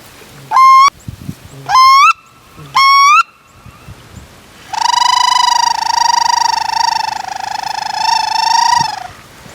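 A wood duck gives an unusual call during a goose hunt: three short, loud, rising squeals, then a long sustained nasal call lasting several seconds, all close by.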